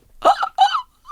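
A voice imitates a seagull with two sharp, nasal squawks in quick succession, and a third starting at the very end.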